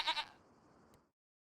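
Goats bleating in the Farming Simulator 25 video game: two quick, fairly close bleats at the start, then a soft trailing tail fading to silence.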